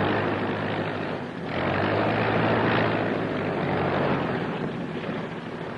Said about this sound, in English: Avión línea de Miami, vuelo segundo. Acaba de aterrizar, un momento de espera.